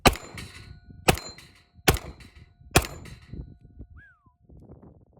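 Four loud, sharp .45-caliber 1911 pistol shots at roughly one-second intervals, each followed by a bright metallic ring from steel targets downrange, with a brief high ping after the last and low room noise between.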